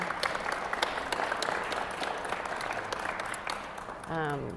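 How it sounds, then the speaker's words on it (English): An audience at a school district trustee engagement meeting applauds its youth in steady, dense clapping, and a voice cuts in briefly at the very end. "can we give some applause to our youth right now?"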